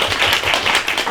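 An audience at a book talk show claps in a quick, rhythmic burst of several beats, close and fairly loud, over about a second.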